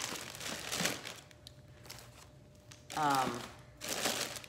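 Plastic bubble wrap around a wrapped pumpkin crinkles in a few short bursts, close and fairly loud, with quieter rustling between them and a brief voiced sound in the middle.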